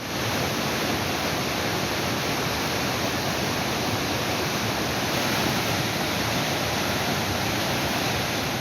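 Mookanamane waterfall in Sakleshpur taluk, swollen by heavy rain, roars as a continuous, loud, broadband rush of falling water with no pauses.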